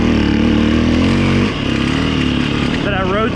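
A 2008 Yamaha WR450F dirt bike engine drones loudly and steadily while riding single track, with a brief dip in pitch and level midway before revving up again and rising tones toward the end.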